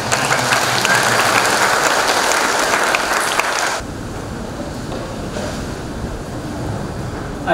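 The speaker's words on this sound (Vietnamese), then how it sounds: "Cộng đồng chúng ta cho anh chị một tràng pháo tay." At a wedding ceremony, a congregation applauds the newlyweds with dense, loud clapping that then drops suddenly to a softer, thinner patter.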